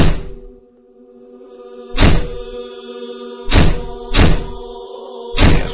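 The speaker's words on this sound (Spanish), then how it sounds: "algo empezaba a golpear la puerta" Heavy banging on a door: five hard, loud thuds arrive irregularly, a lone blow and then clustered knocks, each ringing briefly over a low, sustained tonal drone.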